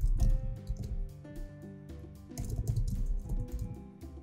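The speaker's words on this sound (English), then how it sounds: "We have to type in four possible answers." Keys tapped on a computer keyboard while entering quiz answers into a PowerPoint template, a quick irregular run of close clicks with short pauses and no talk.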